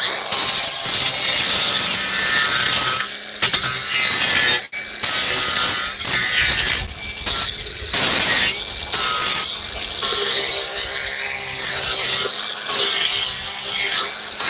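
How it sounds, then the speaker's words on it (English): An angle grinder fitted with a flap wheel smoothing the rough routed edges of window openings, a loud continuous abrasive grinding in repeated passes broken by brief pauses. "take a flapper wheel on the grinder. After we router all our window openings, so it kind of got a rough edge. So I just hit it."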